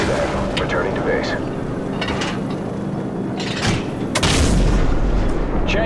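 AC-130 gunship fire in Call of Duty 4 Modern Warfare, heavy distant booms and cracks of cannon rounds landing, with a louder blast near the end, under a constant engine drone and radio chatter.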